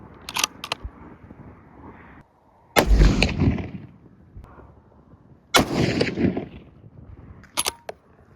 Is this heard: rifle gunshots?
yes